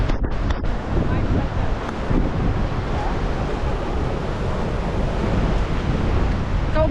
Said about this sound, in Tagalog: di ba ang ganda ng ganda ng alon ng tubig